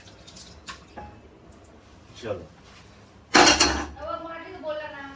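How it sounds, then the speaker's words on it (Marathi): A kadai (wok) is rinsed with water in a home kitchen: scattered metallic clinks and drips, then a loud splashing clatter of water and metal. Someone speaks briefly. "अब कड़े को पहले धोता हूँ थोड़ा सा"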